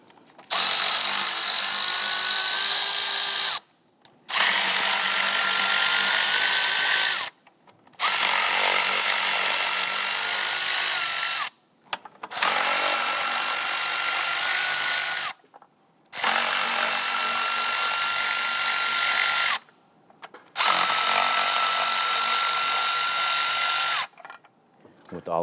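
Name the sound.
loosening upper intake bolts with a 5/16 socket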